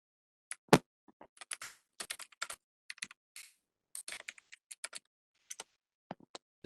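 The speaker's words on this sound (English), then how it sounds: "we can hear you typing it" Typing on a computer keyboard during a remote computer networking session: scattered, irregular key clicks and short flurries of keystrokes, close and clear against near silence.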